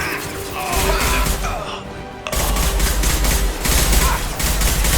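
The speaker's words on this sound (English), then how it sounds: "Firing an impact shot!" Impact shot firing in the video game Mass Effect 2: dense, loud bursts of gunfire-like blasts crackle almost continuously, dipping briefly around the middle before the barrage resumes just as heavily.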